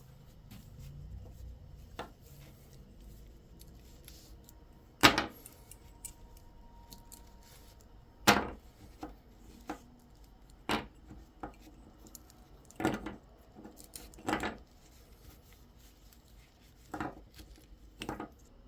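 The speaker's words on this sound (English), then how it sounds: "let's unwrap this thing." Plastic packaging being torn open around a large handmade Japanese diving popper fishing lure, giving a series of sharp crinkling and snipping bursts spaced a few seconds apart, close and fairly quiet, with no talking.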